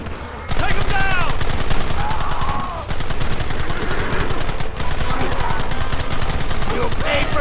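Sustained gunfire in a Red Dead Redemption shootout, a dense run of rapid shots from several guns that keeps going almost without a break, loud and close, with voices shouting over it.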